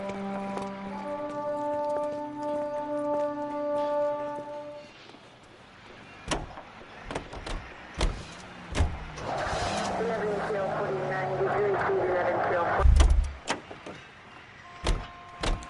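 In the game L.A. Noire, a 1940s car idles with a steady tonal hum. Then a series of sharp thumps and clunks sound like car doors shutting, with a rising engine rev near the end. Music and voices can be heard faintly.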